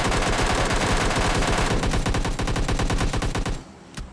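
Sustained rapid automatic gunfire from a multiplayer shooter game, loud and dense with fast repeating shots for several seconds, then cutting off into a quieter tail with one final sharp report.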